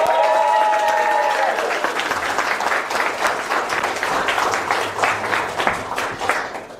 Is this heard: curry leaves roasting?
no